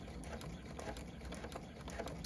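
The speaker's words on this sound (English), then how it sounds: "and then switch to a straight stitch and sew towards me." A sewing machine runs a straight stitch through satin binding on a stretch fleece blanket, a steady rapid mechanical whirring and ticking, close and fairly quiet, alone without talk.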